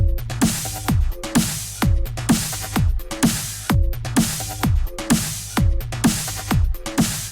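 A processed drum loop run through a drum bus repeats: punchy kick drums with pitch-dropping booms, snare hits, and busy percussion in a tight, steady rhythm, loud and upfront.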